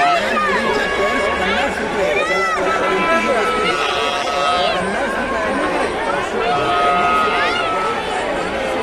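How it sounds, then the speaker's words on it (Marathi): A steady roar of overlapping voices rises from a packed village fair at the Kalbhairavnath festival in Chikhli Talegaon, Pune, with busy crowd chatter and hubbub throughout. "भरपूर गर्दी आहे मित्रांनो"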